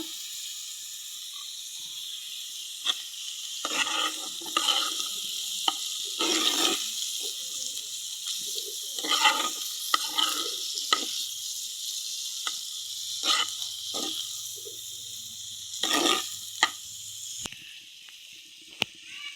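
Meat tipped into a pan of lightly fried pointed gourd sets off a continuous bright frying hiss, with soft crackles and bursts of louder sizzling rising and falling over about twenty seconds, close by and with no voices.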